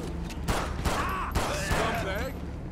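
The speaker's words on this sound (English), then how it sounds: "Let's just shoot them all." Gunfire in GTA 5 during an LSPDFR police mod session with Australian VICPOL highway patrol, several sharp shots at irregular intervals over a steady background rumble, with a voice talking over the burst.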